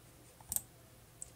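A computer mouse clicks in a Windows update dialog, with a quick double click followed by a single fainter click in a quiet room.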